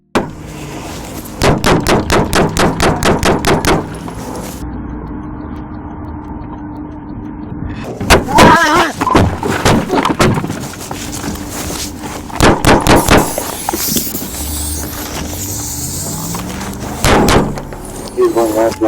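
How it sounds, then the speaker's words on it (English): A police officer is shot at during a gas station stop: rapid bursts of loud gunfire crack in several volleys, interspersed with a shouted voice and radio chatter. "CENTCOM, shots fired, I'm down."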